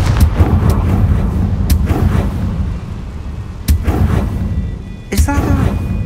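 A Confringo spell explodes in the video game Hogwarts Legacy, several sharp booming blasts with rumbling tails, loud and close, followed by bright magical chimes near the end.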